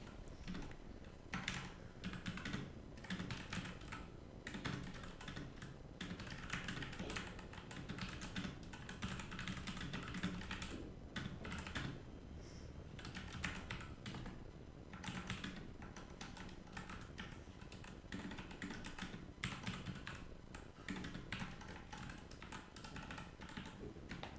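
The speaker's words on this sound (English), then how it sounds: "now I can type anything" Continuous typing on a computer keyboard while entering Python code, a busy stream of close, crisp key clicks with irregular rhythm and no voice.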